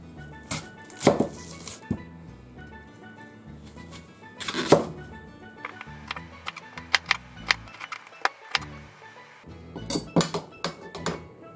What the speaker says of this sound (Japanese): 玉ねぎは皮をむいて薄切りにします。